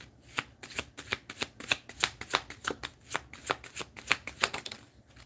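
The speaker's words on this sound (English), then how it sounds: "Shuffle." Playing cards being shuffled at a tabletop game session, a rapid series of crisp riffling bursts repeating steadily for several seconds, close and fairly quiet with no talk over it.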